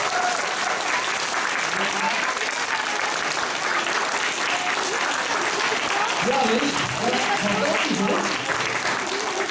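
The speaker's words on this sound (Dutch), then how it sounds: "Een geweldig applaus." A crowd at a children's award ceremony, with the mayor and youth mayor present, applauds steadily and loudly throughout, dense clapping with a few voices and cheers mixed in.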